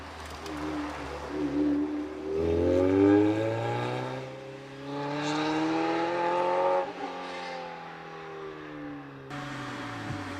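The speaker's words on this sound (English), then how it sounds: "up to the line now it is 192 Tim Jeffrey in the Renault Alpine GTA Turbo" Renault Alpine GTA Turbo climbing at the Prescott hillclimb, its engine note rising and falling through gear changes as it pulls away, heard from a moderate distance with no voices over it.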